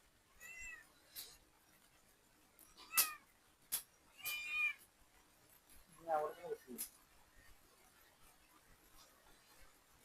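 A cat meows several times in short, separate calls, fairly close, with a few quiet gaps between them and no talking.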